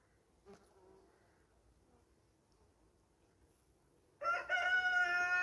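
A rooster crows loudly near beehives, its call bursting in near the end after a long, quiet stretch of faint buzzing from the bees.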